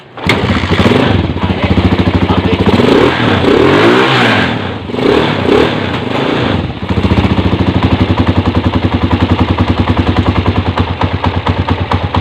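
A Honda 155 motorcycle engine idles and revs loudly up close, with a steady rapid pulsing throb, a rise and fall in pitch around the middle, then settling back into an even, busy idle.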